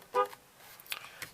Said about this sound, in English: Nice, fairly calm horn.